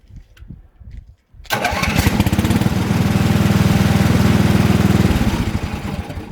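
A small fuel-powered cart for hauling firewood starts up after a couple of quiet pulls, then settles into a loud, steady mid-pitched engine chug that eases slightly near the end.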